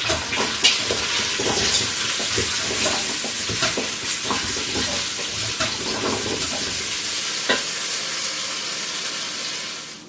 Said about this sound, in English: Here are the meatballs. I'm going to give it a stir.